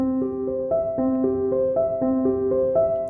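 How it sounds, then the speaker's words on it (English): Short, detached piano chords played without the sustain pedal repeat in a steady pattern, each note cut off cleanly before the next, played alone and close. "Without pedal, it sounds like this."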